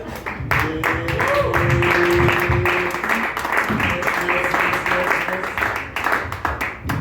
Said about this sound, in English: Clap it up for Ali that is here